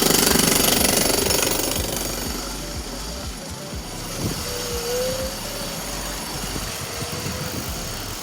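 A jackhammer at a construction site rattles in a rapid, steady pounding that is loud at first and then settles to a more distant level, with a brief tonal whine partway through.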